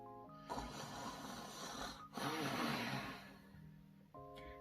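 A storyteller imitates the Gruffalo's snoring with two long, rasping breathy snores in a quiet room, separated by a short pause.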